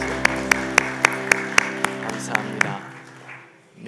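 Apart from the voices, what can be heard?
applause in church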